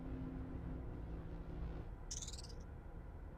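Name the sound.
chirp sound effect in video game Myst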